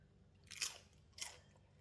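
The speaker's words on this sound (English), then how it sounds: "Let's enjoy the sambal belacan with a lot of fresh and crunchy vegetable." Someone bites into crunchy fresh vegetables, including long beans, eaten with spicy sambal belacan, giving two separate close, crisp crunches with quiet pauses between them.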